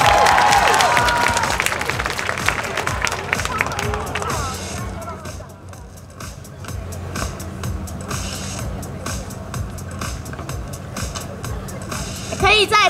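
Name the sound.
audience applause at a concert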